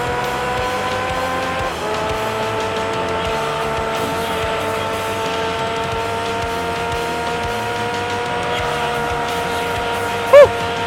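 A V10 race car engine in Gran Turismo 3 screams at high revs, its pitch climbing through gear after gear with a brief dip at each shift. A short squeal cuts in near the end.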